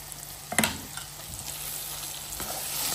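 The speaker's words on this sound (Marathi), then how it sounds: "आणि सारखं आपलं वाटण किंवा हा मसाला आहे ना परतत राहायचं आहे." Spice paste for mutton sukka fries in a steel kadhai, opening with a sharp scrape and sizzle burst, then settling into a steady, close crackling hiss with occasional stirring scrapes.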